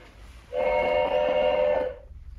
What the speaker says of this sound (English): You may be able to hear the train coming round, past the barrier.